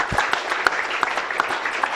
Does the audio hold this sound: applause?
yes